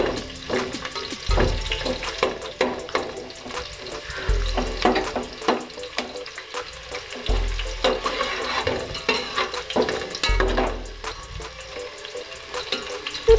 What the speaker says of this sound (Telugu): ఇందులో పచ్చిమిర్చి, ఆనియన్స్ కట్ చేసినవి వేసి ఫ్రై చేస్తున్నాను